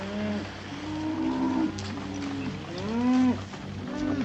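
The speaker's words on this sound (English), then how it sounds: "Keep the cattle moving." A herd of cattle mooing on the open range in an old 1950s western, several long drawn-out lowing calls overlapping one after another over a steady background rumble.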